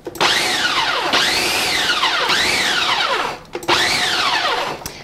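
A Farberware food processor pulses a tart crust mixture in four short bursts, each motor whir rising and falling sharply, loud and close with brief gaps between pulses.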